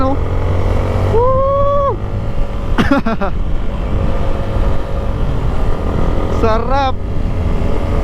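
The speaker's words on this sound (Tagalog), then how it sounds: "magda-downshift ako from 5th gear to 4th gear." Yamaha Sniper 155 motorcycle running steadily while downshifting from 5th to 4th gear, a constant engine drone with brief pitch shifts, heard close under an excited rider's voice.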